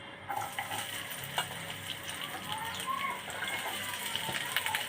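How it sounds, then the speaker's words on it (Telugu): Onions and green chillies frying in a pan, a steady crackling sizzle close by with occasional stirring clatter, moderately quiet and continuous. "ఇప్పుడు ఫస్ట్ మనం తీసుకున్న ఈ ఉల్లిపాయలు పచ్చిమిర్చి వేసేసుకుందాం"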